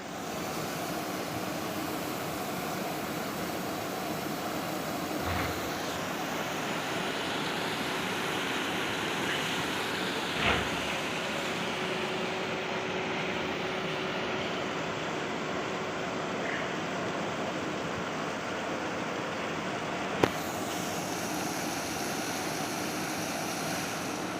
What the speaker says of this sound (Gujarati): વીઆર ટેક્સટાઇલનું પાણી જઈ રહ્યું છે